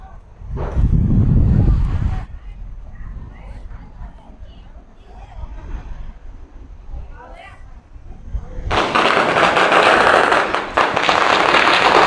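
Bursts of loud crackling pops at a seaside shrine in Thailand, first a short burst, then a quieter gap of wind and murmur, then a sustained rapid string of firecrackers nearby.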